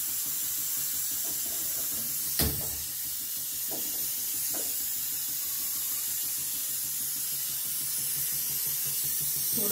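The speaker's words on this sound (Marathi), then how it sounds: "आता मी फोडणीला घालते." Hot oil sizzles as a tempering is added while cooking a mackerel (bangda) pitli rice dish, giving a steady hissing spit that runs throughout, with one sharp splash early on and a couple of small pops.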